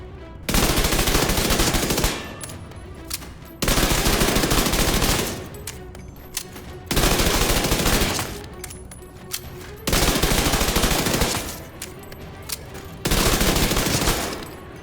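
An MP5 submachine gun fires in full-auto bursts in the video game Division 2, five loud sustained bursts of about two seconds each separated by short gaps.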